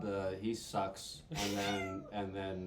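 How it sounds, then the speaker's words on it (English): A house cat meows a few times in the background while people keep talking over it. "Oh, that was a cat."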